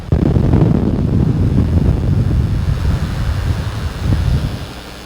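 Strong wind buffets the microphone on an Aberdeenshire beach at Gardenstown, a loud continuous low roar with gusty surges and faint surf beneath, no voices.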